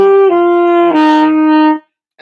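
Low saxophone notes blown with a loose, poor embouchure, a few sustained tones stepping downward with a rough, breathy edge, played alone and close.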